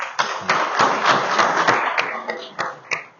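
Sparse, uneven clapping from a small audience at a club forum on mental health first aid, a dense patter of hands with a few louder isolated claps as it trails off near the end.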